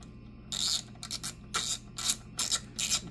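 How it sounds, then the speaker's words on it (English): Ratchet wrench tightening a bolt on an upgraded engine closeout panel of a C8 Corvette, giving six short bursts of rapid clicking in an uneven rhythm, close and clear with no talk. "go ahead and grab my ratchet"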